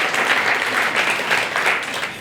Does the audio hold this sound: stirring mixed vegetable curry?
no